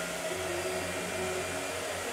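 A blow dryer runs nearby in a painting session, giving a steady whirring hum with a faint tonal whine and no voices.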